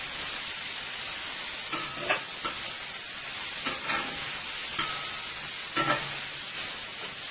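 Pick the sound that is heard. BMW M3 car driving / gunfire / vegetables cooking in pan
vegetables cooking in pan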